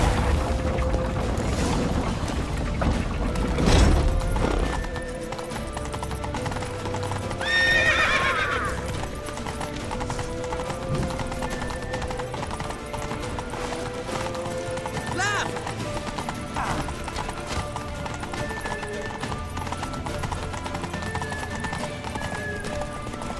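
Horses gallop and neigh in The Witcher 3: Wild Hunt, loud rapid hoofbeats running throughout with a sharp whinny midway and another later, amid battle noise and a dull boom near the start.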